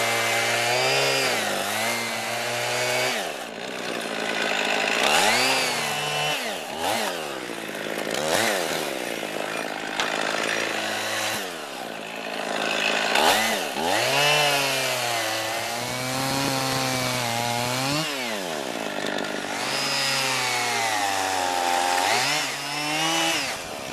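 A chainsaw cuts notches into a log for king-size log furniture, its engine loud and close, revving up and down repeatedly as the blade bites and eases off through the cut.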